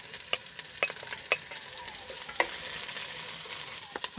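Chili, onion and seasoning fry in a pan with a steady broadband sizzle, punctuated by sharp utensil scrapes and clicks every second or so, close and moderately loud.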